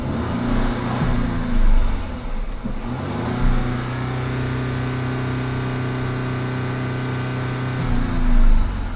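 Audi or Porsche engine with a 48-volt battery system revved during an alternator charging test: a steady close idle drone that rises in pitch as the revs climb, holds, then swells again near the end.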